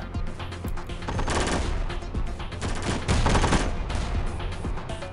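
Armor-piercing gunfire in the Warfare Reloaded game, a loud dense barrage of rapid shots and heavy thuds layered together with hardly a break over a few seconds.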